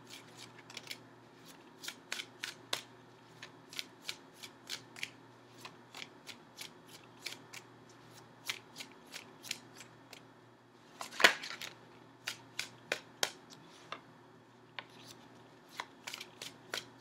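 Tarot cards shuffled and drawn at close range, a quiet run of crisp flicks and snaps in an irregular rhythm, with one louder slap of a card partway through and no talking.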